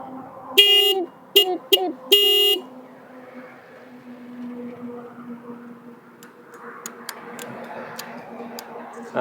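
A vehicle horn on a highway service road near Ongole sounds in several loud, close honks, some short and some held, then a steady engine and traffic drone continues beneath faint distant noises.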